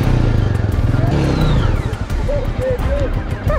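A motorcycle pulls away in first gear on mud. The engine note rises and clatters close by under excited voices, with a few short high squeaks near the end.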